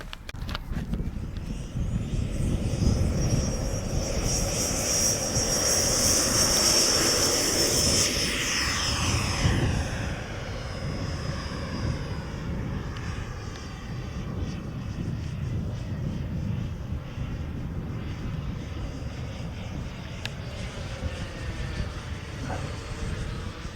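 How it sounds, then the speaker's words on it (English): A repaired Fouga Magister model jet flies overhead with a steady turbine roar and a high whine. The sound peaks as it passes close in the first ten seconds, then fades slightly as it moves away. "This will be the second flight of Al's Model Studios FOUGA Magister since his crash or hard landing."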